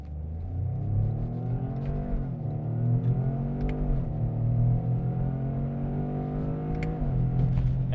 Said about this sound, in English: This is just an 8-speed, they call it a DAT, direct automatic transmission. Those are some pretty quick shifts.